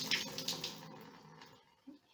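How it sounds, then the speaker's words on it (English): Soaking water from sprouts poured out through a cloth, a short splashing gush that trickles and fades within about two seconds, close and fairly quiet, ending with a small thud. "now what we have to do is dump the water out"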